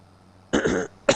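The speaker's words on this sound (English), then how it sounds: "I can't go like freaking 10 minutes without having to clear my throat." A man clears his throat with one harsh guttural rasp and then a shorter second one, close to the microphone in an otherwise quiet room.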